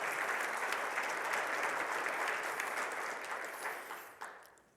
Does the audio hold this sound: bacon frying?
no